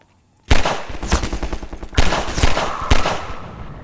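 Gunfire in Half-Life 2: Lost Coast: after a brief quiet start, loud bursts of rapid shots break out, with several sharp volleys around each second and a half, close and dense, and no talking.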